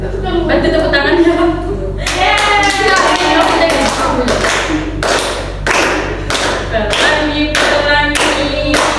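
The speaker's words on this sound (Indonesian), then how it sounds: "Bantu tepuk tangannya." A small group clapping hands in a group counseling practice session, sharp rhythmic claps in a steady beat, fairly close and loud, with voices singing along over them.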